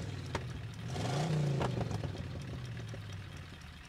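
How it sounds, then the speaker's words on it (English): A car engine in a vehicle-based battle royale video game idles with a clattering hum, then revs briefly upward before settling back to a steady, fairly quiet mechanical drone. "this is the car sound"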